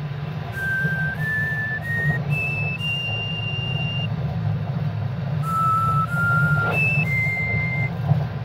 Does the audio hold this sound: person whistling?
yes